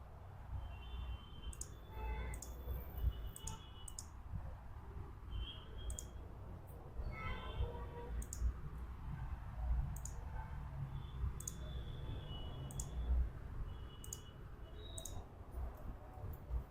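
Computer mouse clicking in a series of sharp, light clicks spread irregularly through the clip, heard close over a steady background hum while someone builds a website.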